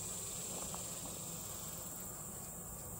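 Honeybees at a summer hive inspection make a steady, high, faint insect drone that carries on evenly throughout with no voices.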